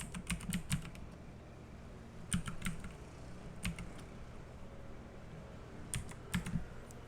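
Bursts of typing on a computer keyboard, several quick clusters of keystrokes separated by pauses, close and fairly quiet with no talking.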